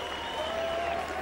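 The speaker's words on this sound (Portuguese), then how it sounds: "Aplaudem" Applause from a crowd of hundreds of Cape Verdean fans in a football stadium stand behind the goal during a Portugal vs Cape Verde match, a steady, dense clapping wash throughout with a faint tone running above it.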